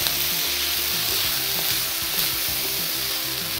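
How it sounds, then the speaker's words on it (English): Black beans and onions sizzle in a hot pan as they are stirred, giving a steady crackling fry with soft scraping strokes repeating every half second or so, close and with no talking. "I'm just gonna mix them around with the onions and heat it till the beans are heated all the way through"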